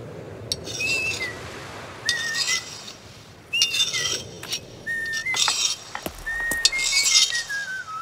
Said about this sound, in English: you got to whistle all the fucking time?